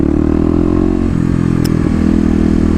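A Kawasaki KLX250 dirt bike with a noisy exhaust idles and burbles loudly at close range, a continuous rough engine drone with a brief rev change midway, outdoors at a mall.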